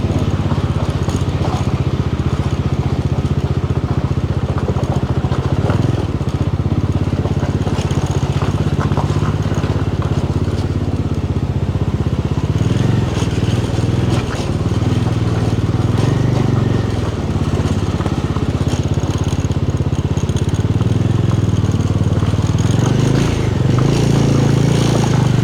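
A motorcycle engine runs steadily and loud throughout, with a constant low rumble and clatter, in a small border village in Ladakh.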